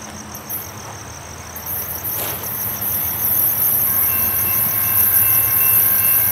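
A CSX freight train, Q452-24, approaches the Banyan Boulevard railroad crossing with a low rumble that swells gradually, while crickets chirp steadily and a high tone rings in the background.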